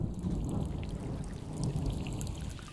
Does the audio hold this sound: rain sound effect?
yes